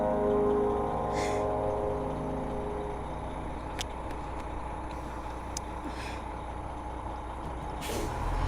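A bus idles with a low rumble as its air brakes release a hiss of air, followed by a few faint clicks and brief hisses over the engine's steady hum.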